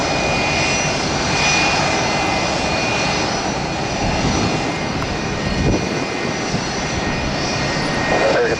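A Boeing 767 jet airliner in NYPD livery roars steadily at close range at an airport, a continuous loud engine rumble with broadband hiss holding throughout.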